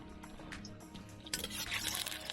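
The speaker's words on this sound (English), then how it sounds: "That chicken's starting to swim. You can see he's making bubbles." Chicken pieces simmering in liquid in a pot at a free campsite, a soft continuous bubbling and burbling that grows busier and louder halfway through, with no voices.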